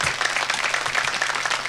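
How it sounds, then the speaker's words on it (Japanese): Sparse, scattered clapping from a small audience of about eight people at a jazz performance, a thin patter of hands that comes across near and fairly clear, without voices. "このパラパラの拍手"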